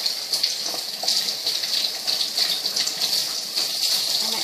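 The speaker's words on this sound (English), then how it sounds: "and rinse out that blood" Tap water runs in a steady hissing gush over freshly butchered rabbit meat as blood is rinsed away, close and continuous, with faint shifting splashes as the meat moves under the stream.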